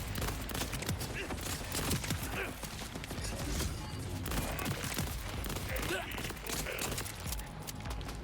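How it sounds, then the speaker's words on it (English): Burst-mode SMG gunfire in Borderlands 4 comes as rapid clustered volleys and sharp impacts in a busy, loud game firefight, with a voice talking intermittently over it. "this gun's clip size is a little bit too small to support an SMG mode, especially a burst one like this"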